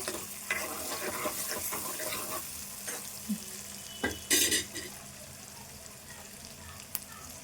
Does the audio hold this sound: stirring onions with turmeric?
yes